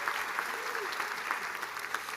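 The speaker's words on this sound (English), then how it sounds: "let's give them a big round of applause" Graduation commencement audience applauding for volunteers, a steady crackle of many hands clapping together, moderately distant and sustained throughout.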